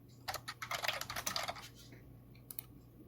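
Python code typed on a computer keyboard, a quick burst of close, light key clicks that slows, pauses, then ends with a couple of final taps in a quiet room.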